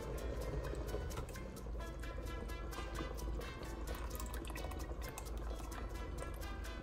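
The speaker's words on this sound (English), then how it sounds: "since I am cooking for a nice size group this evening, instead of one can of coconut milk, I'm gonna add a little bit more." Extra coconut milk pouring into a pot of red Thai curry, a continuous close liquid splashing and bubbling that stays steady throughout.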